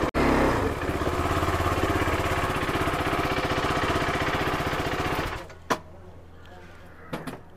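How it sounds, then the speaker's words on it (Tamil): A KTM RC 390 motorcycle engine runs loud and close in a steady idle rumble, then cuts off abruptly, followed by a couple of sharp knocks and near silence. "இப்போ நம்மளோட பைக் எடுத்துகிட்டு வந்து உள்ளே விட்டுருவோம்"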